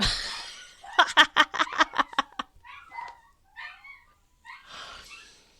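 Several dogs barking in a quick run of sharp, loud barks, then a few softer, scattered yelps and whines trailing off, with no talk over them.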